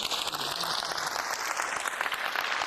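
Applause fills a French Senate chamber, a dense, steady wash of many clapping hands at even loudness throughout, with no speech over it.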